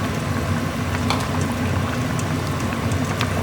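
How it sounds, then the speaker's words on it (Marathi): A pot of curry with coconut at a rolling boil, a dense, continuous bubbling and popping that stays close and even throughout with no voices. "बघा आता मस्त उकळ आलेलं आहे"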